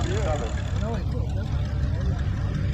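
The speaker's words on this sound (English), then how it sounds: "60 row crop coming through" A John Deere Model 60 row-crop tractor with a narrow front end rolls past in an outdoor threshing-show parade, its steady low engine drone loud and close under talk.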